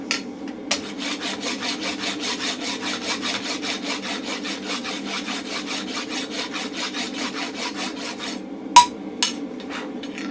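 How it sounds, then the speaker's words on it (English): Steady rhythmic rasp strokes file a round blacksmith punch, dozens of even scraping passes in quick succession, close and clear, ending with a couple of sharp taps of the rasp. "as I rotate my hand, it'll rasp it nice and round"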